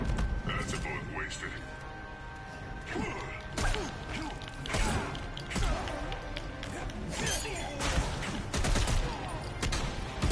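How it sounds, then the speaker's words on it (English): Deadshot's super move in the fighting game Injustice 2 fires a rapid volley of gunshots, cracking in dense bursts over busy game music, impacts and effects for the whole stretch. "So you can see here, this is Deadshot super move"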